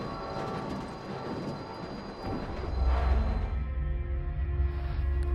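A train rumbles along in a film's train derailment scene, wheels clattering and squealing against the rails, then a deeper, louder roar swells partway through and holds steady.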